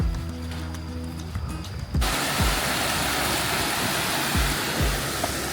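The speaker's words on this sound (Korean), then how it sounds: "폭포도 있고요" A waterfall on the Cheongwansan mountain trail roars as a dense, continuous rush of falling water, loud and close, joined by a few thuds of footsteps or handling after a quieter start.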